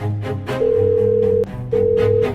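A mobile phone rings with a steady tonal ringtone, sounding in two long bursts separated by a short gap, loud and close.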